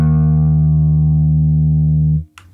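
A Game Changer Audio Light Pedal puts reverb on a loud, sustained guitar note that holds for about two seconds, then cuts off abruptly, leaving only a faint noisy tail.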